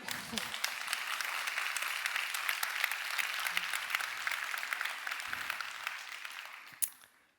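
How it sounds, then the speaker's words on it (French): An audience at a speech event gives steady, moderately distant applause, many hands clapping in a continuous patter that fades out near the end, with a brief louder knock just before it stops. "vous pouvez l'applaudir."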